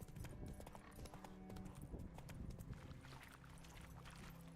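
Roach, the horse in The Witcher 3, clip-clops steadily throughout, a continuous run of hoofbeats over a dense game soundscape with no talk.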